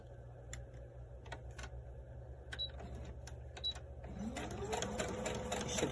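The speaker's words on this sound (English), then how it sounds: "I'm gonna flip it over and sew it this way" A sewing machine stitches a washable medical fabric mask with a nose clip, giving short, quiet mechanical bursts at first and then a faster, steadier run of stitching toward the end.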